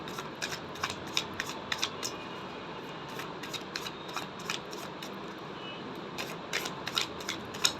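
Tarot cards are shuffled by hand, with a soft, quick, papery riffling and flicking of the deck. The sound repeats steadily and stays faint and close.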